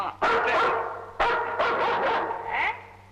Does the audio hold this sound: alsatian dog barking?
yes